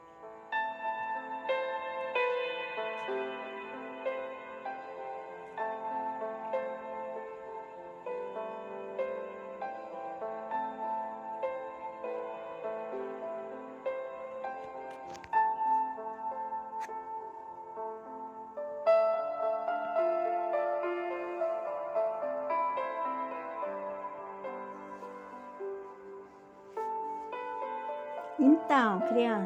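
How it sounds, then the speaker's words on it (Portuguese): Piano melody played in a gentle, continuous flowing line at a moderate, fairly quiet level, with a brief sharper sound near the end. "esse é o som do piano"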